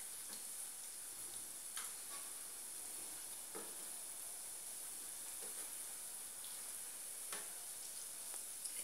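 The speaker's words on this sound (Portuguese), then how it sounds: "Vou pôr mais pra fritar." Rosquinhas, rings of dough, sizzle steadily as they fry in hot oil, a constant hiss with small crackles and pops throughout and no talking.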